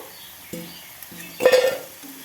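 Pan and utensil clatter with a short burst of sizzling from potatoes frying until reddened, stirred in a few distinct strokes.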